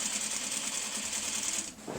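A sewing machine stitches joined quilt top sections across a seam under heavy quilt bulk, humming in a steady fast chatter close up that briefly dips near the end.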